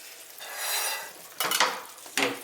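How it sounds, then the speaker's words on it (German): Gözleme filling of minced meat, mushrooms and parsley stirred in a pot: a soft, steady scraping and shuffling, then two sharper clinking strokes of the utensil against the pot, near and moderately loud, with no talking. "ein bisschen umrühren"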